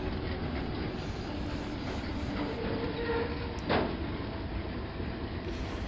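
Maintenance-of-way railroad equipment rolls past on the tracks with a steady, fairly quiet rumble and one brief sharp click or squeal midway.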